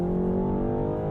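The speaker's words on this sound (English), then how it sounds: "I was just curious to see how high it would rev." A 2022 BMW 330i with its 2-liter engine revs hard toward the limiter, a steady sustained engine tone with strong harmonics, close and loud, with no talking over it.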